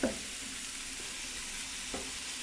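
A soft sizzle from a pan with a few distinct scraping knocks as a spoon stirs the contents, close up and without speech.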